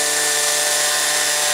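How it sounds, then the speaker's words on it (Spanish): A sanding machine works over a stacked-ring fountain piece, giving a loud, steady, high whirring grind with a constant motor hum, close and uninterrupted. "pero solamente gira por presión de la máquina lijadora"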